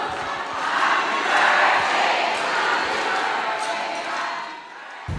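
A crowd of about 1,500 Filipinos cheering as the president arrives at a venue, a loud, sustained roar of shouts and applause that swells and holds throughout.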